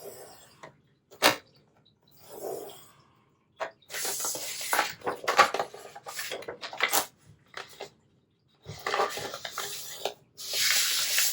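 Bone folder or stylus scoring paper on a scoreboard at the 7-inch mark along the 8.5-inch side, heard as close, intermittent rubbing and scraping strokes in short bursts with pauses between, no talking.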